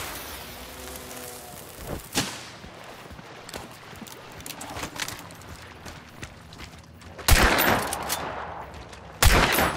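Gunshots from the video game Hunt: Showdown ring out amid general game noise, with scattered sharp reports and two loud, heavy blasts near the end, including a shotgun.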